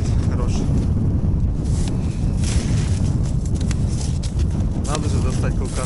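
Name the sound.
wind blowing into microphone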